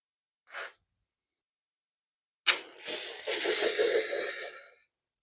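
An aerosol can sprays down a snowblower housing during seasonal maintenance: one brief hiss, a pause, then a long continuous close spray lasting about two seconds before stopping, with no talk.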